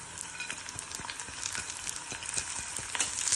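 Dried red chillies, roasted gram, cashews and grated coconut stirred in a hot pan, giving a steady close sizzle with frequent scraping stir strokes throughout, no voices.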